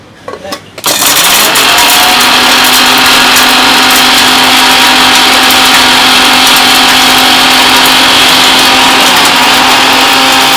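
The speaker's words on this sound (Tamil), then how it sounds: "அதை கொஞ்சம் உடச்சிக்கிட்டு மிக்சியில் போட்டு" An electric mixer grinder powders crushed dried lentils in its jar. After a few handling knocks it starts abruptly, and a loud, steady high-pitched motor whine with a rattling grind holds unbroken to the end.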